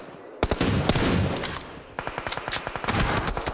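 Automatic gunfire in PUBG Mobile during an esports match rattles in rapid bursts, with sharp single cracks at first, then a quick, evenly spaced volley of shots, loud and close.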